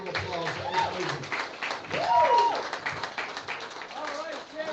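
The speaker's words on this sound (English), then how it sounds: "Let's give Sherry another round of applause." Clapping from the crowd at a state representative campaign event, heard mixed with loud cheering and overlapping voices throughout.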